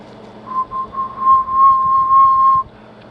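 A person whistles one steady, thin tone for about two seconds into the microphone of a Johnson 500 transmitter, with low hum and faint rumbling beneath it.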